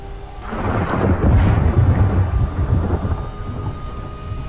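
Thunder from a lightning strike during a tornado in the Roblox game Twisted, a sudden loud crack that swells into a heavy rumble over rain and slowly fades.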